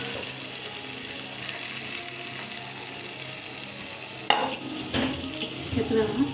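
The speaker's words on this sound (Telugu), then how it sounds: "ఇలా నీట్గా తిప్పేసుకుందామండి మొత్తం కలిసేలాగా" Sweet rice pongal with ghee, cashews and dry fruits being stirred in a pot, a steady soft sizzle with a few sharp scraping knocks of the spoon near the end.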